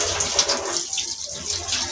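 Water gushes steadily from a makeshift temporary tap, a close hissing splash with slight fluctuations in flow.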